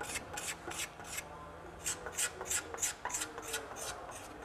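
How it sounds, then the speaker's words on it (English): Bamboo node on a Hardy fly rod being filed down by hand, heard as a close series of short, rhythmic rasping strokes with brief pauses between them. "we're just going to file that bud away just until we get it down to the"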